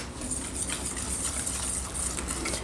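Whisk stirring ingredients together in a bowl while making grilled chicken, a steady scraping, clinking rhythm that stays close and even throughout, with no talking.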